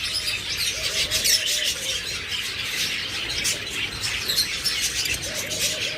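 A pair of yellow farm-raised pet birds chirp and squawk in repeated bright bursts, close and lively over a faint background of other birds, with no voices.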